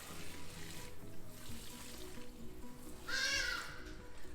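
Tap water runs softly while dishes are rinsed during kitchen cleaning, a faint continuous trickle with a brief higher-pitched squeak or clink near the end.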